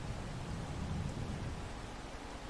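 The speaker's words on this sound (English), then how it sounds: "It's still raining" Continuous rain pours in Farming Simulator 22, a dense, steady wash of drops with a low rumbling undertone, no voices present.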